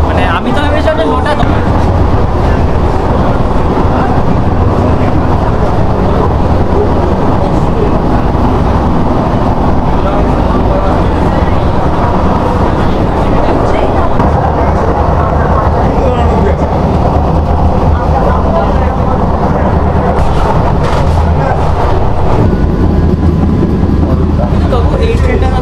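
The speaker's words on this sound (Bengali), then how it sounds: "এই প্রথমবার এরকম ট্রেনে চাপলাম" A new AC local train on the Sealdah to Ranaghat line runs steadily with a constant loud rumble and rolling rail noise throughout, while passengers talk over it.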